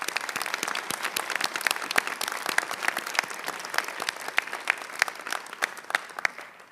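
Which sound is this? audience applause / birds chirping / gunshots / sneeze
audience applause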